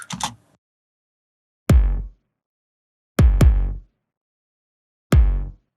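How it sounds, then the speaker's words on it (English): Punchy layered kick drum hits soloed with gaps between, one a quick double hit, each a deep thump with short decay. "So I layered 3 kicks."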